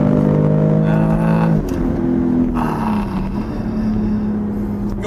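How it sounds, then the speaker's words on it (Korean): A BMW X3 M40i SUV engine growls loudly from inside the cabin in sport mode, its exhaust note dropping as gears shift, then pulling steadily again under acceleration. "이거 배기음 듣는 재미도 꽤 있어요, 이 차는, 진짜."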